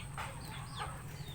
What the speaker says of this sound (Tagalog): Ito yung mga manok namin mga ka-idol.